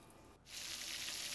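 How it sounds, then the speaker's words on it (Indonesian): Chicken frying in hot oil for soto Semarang, a steady close sizzle that briefly drops and then swells into a loud, continuous crackling hiss. "panaskan minyak secukupnya, kemudian goreng ayamnya"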